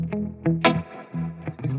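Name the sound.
guitar amp with tremolo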